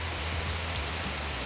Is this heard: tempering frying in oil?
no